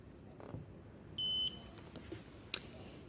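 A Nomad fingerprint scanner gives a single clean, high-pitched beep lasting about a third of a second, followed shortly by a faint short chirp, against a quiet room.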